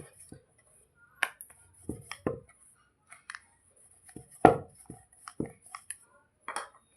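Maida parotta dough being beaten by hand: sparse, sharp slaps and thuds at an uneven pace, close by, with near silence between strikes.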